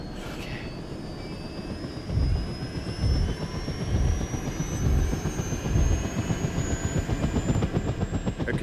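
A hospital airlift helicopter runs steadily and close, its rotor thumping in a regular beat over a dense turbine whine and broadband roar, with no voices.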